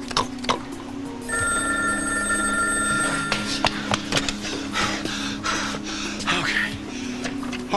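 A telephone bell rings in a soap-opera scene, a steady electronic trill running for a couple of seconds at moderate level over a faint room hum, followed by breathy gasps and scattered small noises.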